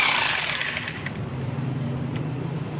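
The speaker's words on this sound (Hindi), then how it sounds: "आपके पास ड्रिल मशीन होनी चाहिए।" A drill machine bores holes into the metal body of a homemade UPS, a harsh, gritty mechanical grinding that runs continuously at close range with a few sharp metallic clicks.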